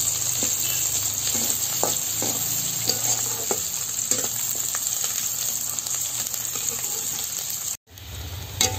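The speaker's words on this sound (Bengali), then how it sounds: "পেঁয়াজগুলি আমাদের একদম ভাজা ভাজা হয়ে গেছে" Onions frying in a pan until browned for a Bengali village-style vegetarian pui shak dish: a steady, close sizzle with occasional stirring scrapes throughout, no voices.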